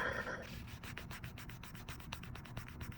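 During a pedicure, a nail file smooths a toenail in quick, quiet rubbing strokes, repeated in a fast, even rhythm close up.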